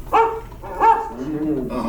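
A dog barks twice in quick succession, sharp yips close by, followed by a short whining vocalization.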